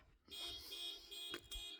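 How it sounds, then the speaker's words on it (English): A car alarm sounds in a parking lot, steady and tonal, with a sharper burst near the end. It is faint and distant and comes through quiet outdoor ambience. "we have somebody's alarm going off in the parking lot"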